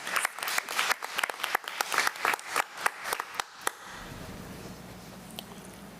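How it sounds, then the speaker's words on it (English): A small group at a committee meeting claps for about four seconds, uneven and close, then the applause stops and faint room murmur remains. "Let's give her a round of applause."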